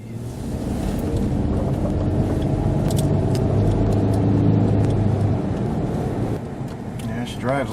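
A 2001 Infiniti QX4 with a 3.5L engine and newly fitted E3 spark plugs driving on a road: a steady low engine and road rumble, fairly quiet and constant, rising slightly midway, with a voice at the end.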